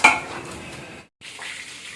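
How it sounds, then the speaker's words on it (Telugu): Whole fish frying with masala in a pan gives a soft, steady sizzle with a clink of utensils at the start, broken by a brief gap before the frying resumes. "దీంట్లో ఇప్పుడు మసాలాలు అన్ని పెట్టేసి చక్కగా ఫ్రై చేసి కమ్మగా తినేసేయాలి"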